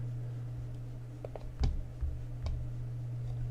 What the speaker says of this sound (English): I'm going to click finish.